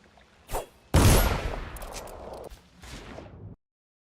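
A gun fired at a fish in a video game: one short shot, then a loud blast with a long decaying tail, followed by a smaller second burst before sudden silence.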